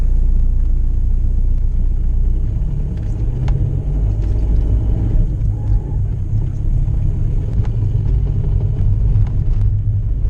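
Loud, constant low rumble of a 1.9 diesel Volkswagen Polo 6N while driving, with rough grinding noise from a damaged gearbox throughout and occasional faint clicks.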